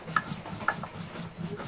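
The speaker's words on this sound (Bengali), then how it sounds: "এবার দেখো শুকনো লঙ্কা বাটা হচ্ছে" Dried red chillies are ground into paste by hand against a stone, a quiet, steady scraping and rubbing with a few light knocks.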